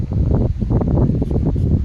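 Strong wind buffets the microphone in continuous gusty rumbles, loud and close, with rustling noise and no voices, outdoors during metal detecting in Ukraine.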